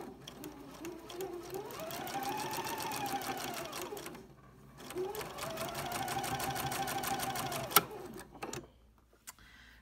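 A sewing machine stitches quilt fabric strips for a log cabin courthouse steps block in two long, steady runs of close, rapid mechanical whirring. A short pause separates the runs, and the machine stops near the end.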